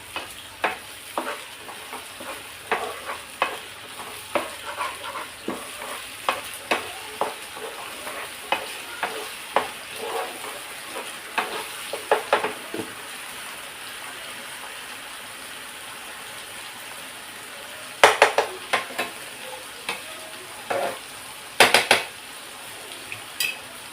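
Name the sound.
tomato puree frying and being stirred in a pan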